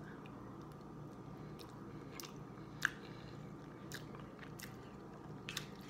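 Close, quiet chewing of creamy fettuccine Alfredo pasta, with soft wet mouth sounds and a few sharper bites scattered over steady low background noise.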